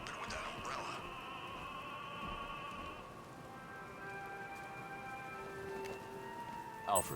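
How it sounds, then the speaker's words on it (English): Steady rain falls across a city scene in the video game Batman: Arkham Knight, a constant soft hiss under sustained tonal music and a distant siren-like wail. "What's with all the rain?"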